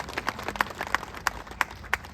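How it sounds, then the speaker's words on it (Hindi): At a political gathering, a crowd claps in an even rhythm, roughly three beats a second, rather faint and a little distant, with a low murmur of the crowd underneath. "एक बार उनके लिए जोरदार तालियां बजा दें।"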